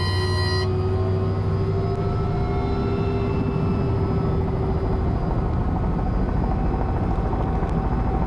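Robinson R66 helicopter flaring at the end of an autorotation, a steady close rotor and engine drone with low throbbing blade rumble filling the whole stretch, no voices.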